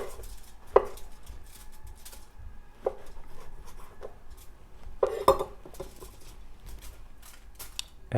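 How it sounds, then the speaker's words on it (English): Mushroom caps are sliced with a knife on a board, giving a handful of sharp, irregular cutting taps and clicks against a faint kitchen background. "So we've got 1 mushroom cap each, and I'm just going to slice those"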